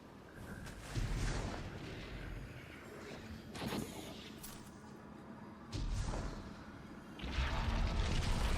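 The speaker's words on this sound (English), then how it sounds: "We'll wait for those explosions." Explosions in the Destiny 2 video game, several booming blasts bursting at intervals over a dense, steady wash of game noise, the heaviest near the end.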